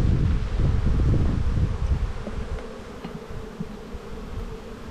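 Honey bees buzz steadily around an open outer frame lifted from a hive during spring buildup in Australia, a loud close swarm drone that eases slightly, with light wind and rustling behind.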